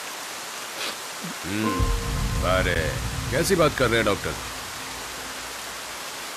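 Steady rain hisses in the background throughout, with people talking over it.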